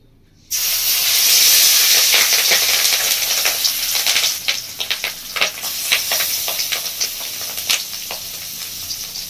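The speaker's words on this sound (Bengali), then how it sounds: "এখন মাছের ডিমটা ভেজে নেব।" Fish roe dropped into hot oil erupts into a sudden, loud, hissing sizzle that carries on steadily, with a rapid scatter of spitting crackles, close and without talk.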